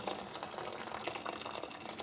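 Hot water from a boiled kettle pours into a container for soaking diecast toys, a short, close, continuous gushing splash with no talking.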